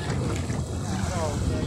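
Strong wind at sea near Kuala Gula, a steady loud rush buffeting the microphone with low rumble, continuous and close, likely from a small boat.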